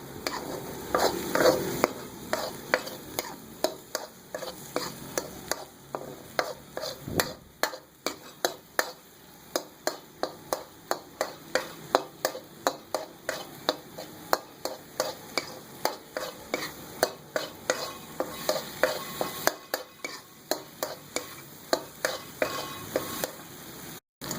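A spoon stirs egg bhurji (egg khagina) continuously in a pan, making steady, regular scraping clicks about twice a second over a soft, faint sizzle, close and without speech.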